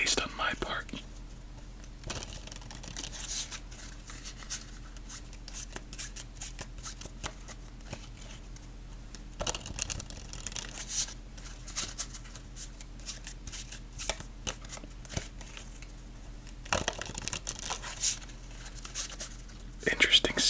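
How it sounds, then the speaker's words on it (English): Close, crisp riffling of a deck of playing cards from a lobster-themed deck during ASMR solitaire, several bursts of rapid fluttering clicks separated by quieter handling, with soft whispered talk throughout. "Interesting sound to that shuffle."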